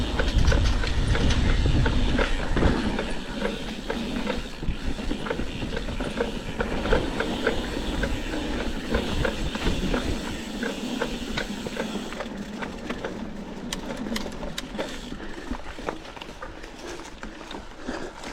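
A mountain bike's rear brake rattles and clatters steadily on a bike-park trail descent, a continuous mechanical racket mixed with rolling rumble and wind, loud and close throughout.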